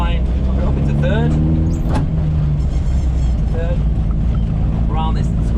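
Rally car accelerating hard on a bumpy rally stage and shifting up into third gear, a loud steady engine drone from inside the cabin with a brief change at the upshift, while a voice talks over it throughout.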